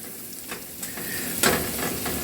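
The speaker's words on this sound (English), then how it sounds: "the butter is kind of melted there. I'm going to take these mushrooms. We're going to throw those in there." Mushrooms tossed into melted butter in a breakfast pan, giving a steady close sizzle with scattered crackles and a louder stirring burst midway.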